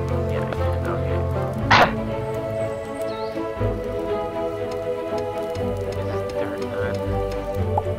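Rain patters continuously during a nighttime thunderstorm in the video game Starbound, with a sharp crackling burst near the start over a layered, droning game soundtrack.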